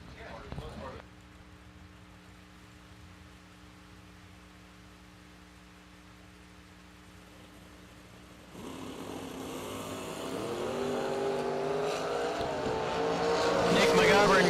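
Drag race cars launching at a summer fling event, a Badman Racing engine-powered Camaro alongside an S10 pickup, their engines rising from a low idle hum into a loud, building roar that climbs steadily toward the end.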